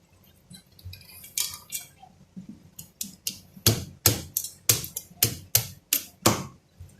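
A quick series of sharp knife chops cutting chili peppers on a cutting board, close up, with a steady rhythm after a few scattered taps.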